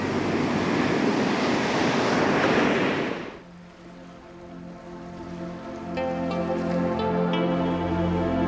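Ocean waves break loudly on the beach beside a fishing pier on Tybee Island at sunrise, a roaring wash of surf that fades into a softer background with faint distant sounds.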